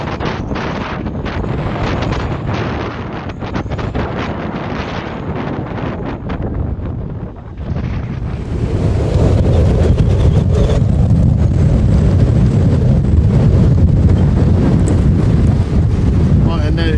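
Strong gale-force wind buffets a sailboat anchored off Paros in Greece, roaring loudly and continuously against the microphone. The rush grows even heavier partway through, with the churn of water beneath it.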